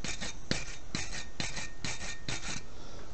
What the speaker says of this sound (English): quick wire brush.